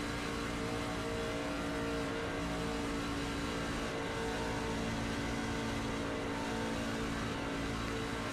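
Race car engines on track during the Shake 'N Bake 200, a steady sustained engine drone at a distance, even and unbroken throughout.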